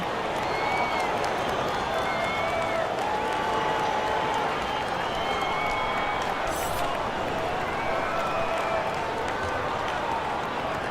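A basketball arena crowd and coaching staff applaud continuously in NBA 2K during a FIBA World Cup game between Gilas Pilipinas and Australia, a steady wash of clapping with faint cheers.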